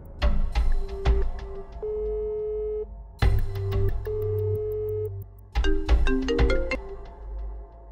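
A phone ringtone plays three repeated melodic bursts of bright electronic tones separated by short pauses, loud and close, ringing on with no answer.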